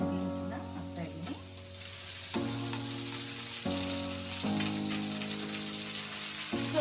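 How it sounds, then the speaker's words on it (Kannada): Carrots and beans frying in a pan for shavige upma, a loud bright sizzle that surges as more vegetables go in, with occasional stirring under a continuous crackle. "ಕ್ಯಾರೆಟ್ ಮತ್ತೆ ಬೀನ್ಸ್ ನ ಹಾಕ್ತಾ ಇದ್ದೀನಿ."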